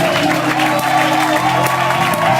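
A church congregation applauds and cheers loudly, with dense clapping and shouting voices filling the room continuously and close, while a voice calls out over the crowd.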